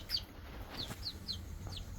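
Young chickens bought at a market and roaming outdoors give a few soft, short, high peeps and clucks, faint and scattered over low background noise.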